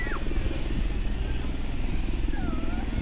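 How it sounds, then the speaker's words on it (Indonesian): A Super Puma helicopter landing on a village helipad in Lumajang, East Java: steady rotor and engine rumble fills the scene, constant and fairly close, with faint chirps above the drone. "helikopter Super Puma parkir"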